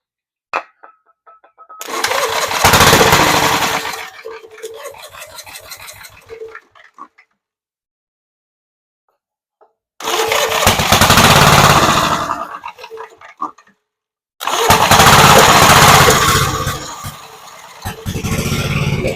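A Gravely Model L tractor with a Jenkins conversion is cranked three times, each attempt a loud, close, rough burst of engine churning lasting a few seconds, separated by silence.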